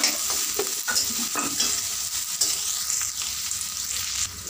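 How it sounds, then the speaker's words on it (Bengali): Chopped onion and green chili stirred and frying in hot oil in a pan for a pumpkin dish, a steady close sizzle with repeated scraping stirs of the spoon, no voices. "এর মধ্যে দিয়ে দেবো পেঁয়াজ কুচি, দিয়ে আবারও একটু হালকা ভেজে নেব।"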